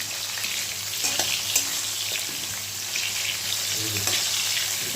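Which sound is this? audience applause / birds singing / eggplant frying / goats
eggplant frying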